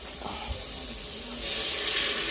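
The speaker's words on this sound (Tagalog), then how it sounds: "lagyan mo ng mahit na tubig agad." Hot water is poured into a cooking pot for chicken-less tinola, a steady hissing rush that swells louder partway through, with faint kitchen clatter.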